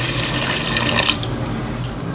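Water poured from a tap or container into a nearly dry cooking pot while making spicy Ghanaian soup, a loud continuous splashing rush that softens after about a second into a steadier trickle.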